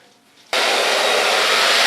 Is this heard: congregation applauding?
no